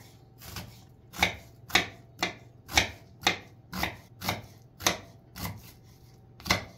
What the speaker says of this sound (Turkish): Önce soğanları küçük küçük doğruyoruz arkadaşlar.